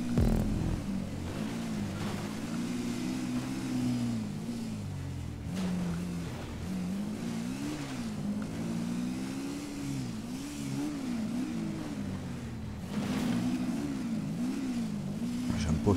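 Motorcycle engine in GTA 5 during an enduro parkour run, revving steadily with rising and falling pitch throughout, moderately loud and continuous, with a voice talking over it.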